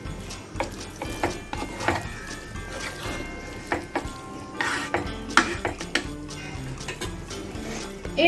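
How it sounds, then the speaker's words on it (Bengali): A spoon scrapes and clinks against a pan while a yogurt-based paneer gravy with sugar is stirred, a busy run of close metallic clatter and scraping with no talk. "এবার ভালো করে আরেকবার নাড়া দিয়ে দেব"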